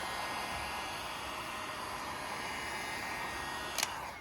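A heat gun warms anti-scrape film on a carbon front spoiler of a BMW G80 M3, producing a constant, even blowing hiss throughout, with a brief tap near the end.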